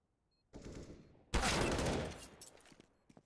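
Gunfire from a Counter-Strike match at a major esports tournament: a short burst of shots, then a louder sustained volley that tapers into scattered pops, close and alone with no talk.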